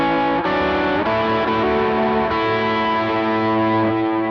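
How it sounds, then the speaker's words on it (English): Electric guitar played through drive, delay and reverb with no boost pedal engaged, loud sustained distorted chords that ring on with echoing tails and shift a few times, with no voices. "This also has drive and delay and reverb and all those kind of things, but without engaging the boost,"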